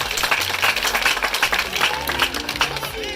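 A dense, steady wash of applause from an audience at a school academic excellence ceremony, Collège Saint Dominique in Batcham, with many hands clapping loudly and continuously, some low hum and faint voices underneath.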